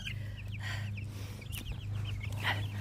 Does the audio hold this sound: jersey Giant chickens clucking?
yes